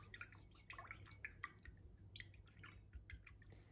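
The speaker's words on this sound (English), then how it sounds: "We're now going to give our big brush a good wash in our water." A large paintbrush is swished and rinsed in a container of water, giving quiet, scattered drips, splashes and small liquid clicks in an irregular rhythm, close but faint, with no talking.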